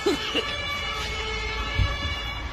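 An ambulance siren on a street during an electric bus fire in Hannover, sounding steadily at mid distance amid crowd noise and traffic, with a brief low thump near the end.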